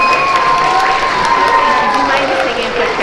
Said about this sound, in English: Okay, round of applause for third grade.